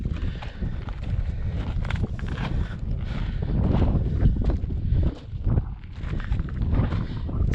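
Wind gusts across a hillside on a hike, a loud, rough, buffeting rush striking the microphone steadily throughout, with no voices.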